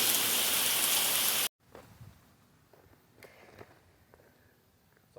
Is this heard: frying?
no